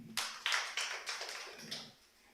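A small audience at a university innovation club launch gives a short, sparse burst of clapping, several distinct claps in quick succession, fairly faint and alone.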